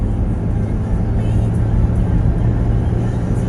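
A 2003 Honda CR-V 2.0 i-VTEC 4WD with a four-speed automatic pulls away through its gears. A steady, low, droning engine rumble with road noise sounds from inside the cabin, without any talking.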